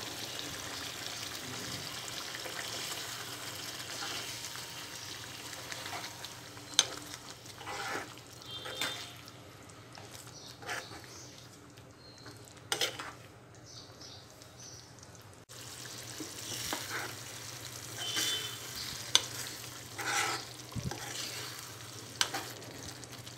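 Bangalore-style stuffed eggplant curry bubbling and frying in a pan, a soft continuous sizzle with occasional clinks and scrapes of stirring, fairly quiet and close, without speech.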